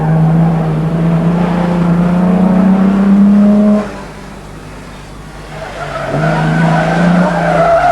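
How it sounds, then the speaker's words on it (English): Austin Healey race cars scream down a hill in a road race, engines revving loud and near with tires squealing, then fading briefly before another car roars back in. "Tony Barranco and Kevin Law are racing down the hill toward"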